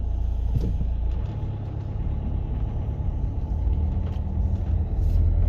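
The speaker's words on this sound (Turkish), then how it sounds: "Araba geliyor." A Renault Fluence's low engine rumble and road noise, steady and fairly loud, as if the car is drawing near.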